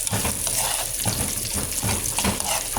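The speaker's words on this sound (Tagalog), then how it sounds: "Igisa lang din natin yung ating sibuyas." Chopped onions sauté in a pan for a Filipino squid dish: a loud, close, continuous frying hiss broken by rhythmic stirring scrapes, with no talking.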